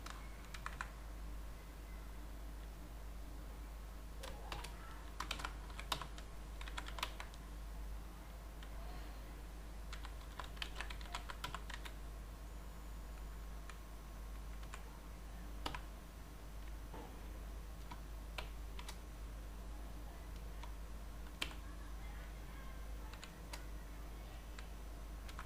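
Computer keyboard typing code, heard as bursts of quick, light key clicks separated by pauses, close and fairly quiet over a low steady hum.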